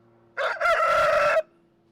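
A rooster on a rural farm with egg-laying chickens crows once, a loud close call of about one second with a brief rising start and a sustained harsh note, standing alone against quiet.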